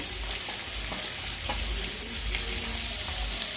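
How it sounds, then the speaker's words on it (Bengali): Boiled potatoes fry in oil in a pan while making jackfruit and prawn curry, giving a steady, close, dense sizzle with light crackle throughout and no talking. "দেখো, আলুটা ভাজা হচ্ছে।"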